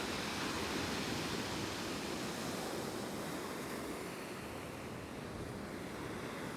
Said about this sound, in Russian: Море штормит.